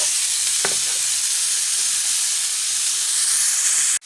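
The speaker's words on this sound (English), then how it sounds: "I'm going to go ahead and let it cook until it all has browned." Ground beef browning in a pan for sloppy joes gives a loud, steady sizzle and hiss that runs unbroken throughout, with one brief clink from a utensil near the start.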